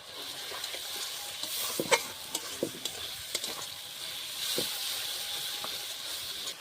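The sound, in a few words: ginger garlic with turmeric and chili paste frying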